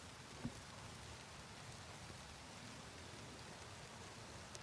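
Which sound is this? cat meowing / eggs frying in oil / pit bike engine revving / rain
rain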